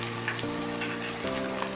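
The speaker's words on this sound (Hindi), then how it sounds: "अब हम भी ये पेस्ट भी इसमें डाल रहे हैं" Garlic ginger paste hits onions frying in a steel pot, giving a steady close sizzle with a low tonal hum that steps in pitch, and a few light stirring clicks.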